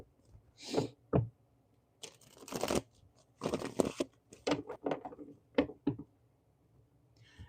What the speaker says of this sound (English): Shuffle that one more time.